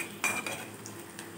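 Ground cumin and coriander masala is sautéed in a pan while a utensil stirs it, giving a few close scraping clinks over a soft, steady sizzle.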